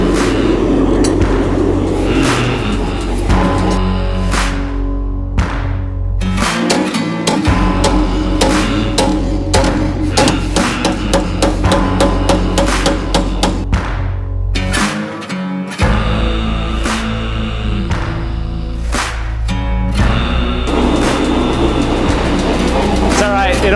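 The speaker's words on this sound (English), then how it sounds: "forge out the bevels, a little bit of final shaping and straightening, and we'll be done." Hammer forging the bevels on a giant knife blade made from a broken steel leaf spring: rapid, loud, metallic blows in a steady dense rhythm, with brief pauses near the start and midway, and some talk mixed in.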